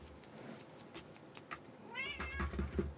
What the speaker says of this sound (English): Yes, now the cat's on camera.